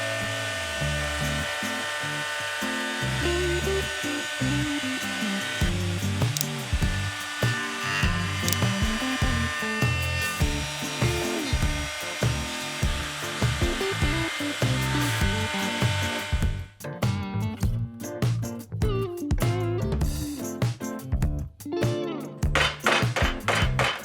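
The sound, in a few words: cutting a chamfer on resin wood bookends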